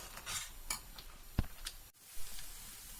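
A spoon stirs grated coconut into jaggery syrup in a pan, making quiet scattered clinks and scrapes against the metal.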